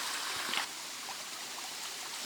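A river flows steadily nearby, a continuous rushing, trickling wash of water with a faint splash early on and no voices.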